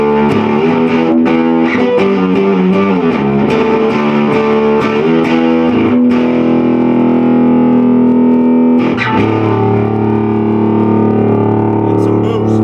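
A distorted Godin Solidac electric guitar plays rock chords and riffs through plenty of preamp with a roomy reverb tail, loud and sustained, a few notes ringing out near the end.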